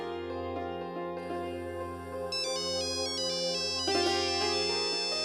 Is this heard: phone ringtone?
yes